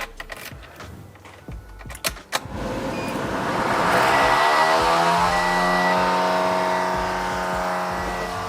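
A few clicks and knocks, then a Toyota Corolla XRS cooling fan, obstructed by something, whirs up into a loud, steady drone with a shifting, wavering pitch that slowly eases.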